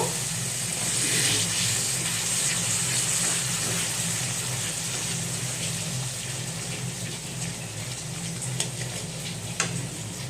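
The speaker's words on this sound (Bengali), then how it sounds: "তার জন্য কিছুটা জল দিয়ে দিচ্ছি। জলটা দিয়ে আমি ভালো করে মশলাটা কষিয়ে নেব।" Water added to a ground-spice masala in a hot cooking pan, giving a steady, loud, close sizzling hiss that continues evenly with occasional small pops.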